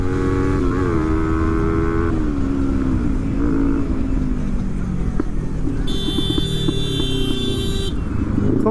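Kawasaki ZX10R motorcycles race on a road, with a steady engine drone and shifting revving tones, plus a long high horn blast near the end.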